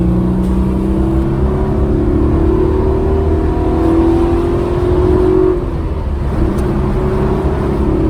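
The 1991 Alfa Romeo SZ's engine echoes through a tunnel, a loud, close drone whose pitch climbs steadily under acceleration, then dips and settles as the car eases off.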